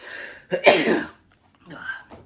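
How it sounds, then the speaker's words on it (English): One loud, close sneeze bursts out, followed by a brief murmured voice. "I'm going to sneeze, so bless my face."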